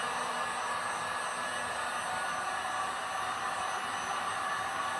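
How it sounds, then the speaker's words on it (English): A heat gun blows steadily over acrylic paint in a Dutch pour, giving an unbroken, even, airy whoosh from start to finish. "You want to be careful when you're using the heat gun because it's easy to burn the paint"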